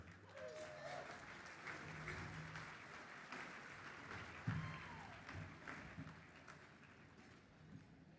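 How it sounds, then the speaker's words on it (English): Rousing applause from a gala crowd welcoming a school charity founder, faint and distant clapping that carries on steadily with scattered voices and a brief thump partway through. "rousing applause. I really appreciate it."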